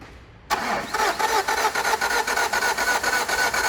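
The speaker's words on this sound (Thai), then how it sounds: "ลองสตาร์ทเครื่องหน่อยสิ สตาร์ทยาวเลย" A car engine with a cracked timing belt and stripped gears cranks continuously after a short quiet lead-in, a steady rhythmic grinding churn that carries on without catching, loud and close.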